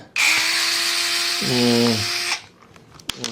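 A Fanttik NEX S1 Pro electric screwdriver spins with a loud, close, high motor whine that holds steady, dips in pitch briefly under load, then cuts off into quiet clicks.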